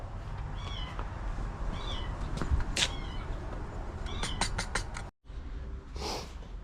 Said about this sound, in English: You okay, barn cat?